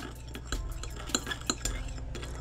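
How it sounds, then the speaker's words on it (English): A utensil stirring sodium gluconate into a cosmetic mixture in a container, giving faint, rapid clinks and light scraping taps close by with a soft low hum underneath. "Mix it until the sodium gluconate dissolves."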